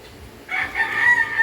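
A rooster crows once, loud and close, its call rising and holding for about a second over a quiet background.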